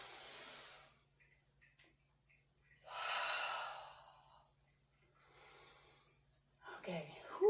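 Deep breaths during a yoga breathing exercise: a long airy inhale and slower breathy exhales, close and soft, separated by quiet pauses, ending with a brief voiced sound.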